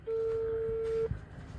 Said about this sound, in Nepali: फोन गर्दैछु है, उठाउँछ कि नै?